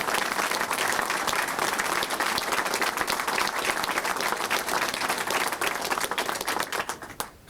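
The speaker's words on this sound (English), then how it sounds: "Let's give David and the entire Sasol team yet another great round of applause" A large crowd applauds loudly and steadily, dense clapping sustained throughout before tapering off at the very end.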